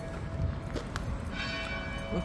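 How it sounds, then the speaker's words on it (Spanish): Church bells ring in the distance amid a busy outdoor background in the public plaza of Yabucoa, with steady tones running under the ambient noise and a few faint voices. "Acá ah, están las campanas sonando."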